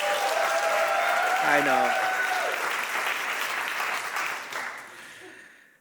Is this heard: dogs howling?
no